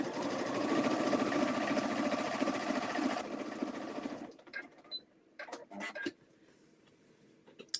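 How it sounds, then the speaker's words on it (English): Sewing machine running a low stitch length along a folded line in fabric, a loud steady mechanical whir for about four seconds that stops abruptly, followed by faint scattered handling clicks and rustles. "I'm going to go over and sew on that line that we folded on"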